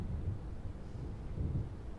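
Low, rolling thunder from an approaching storm in the video game Alan Wake Remastered rumbles steadily for a couple of seconds, swelling slightly twice, with no talking.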